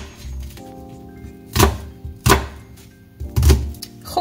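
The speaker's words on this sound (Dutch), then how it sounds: "fijne stukken snijden." A knife chops red onion on a cutting board, giving three distinct, heavy thunks about a second apart over a quiet background hum.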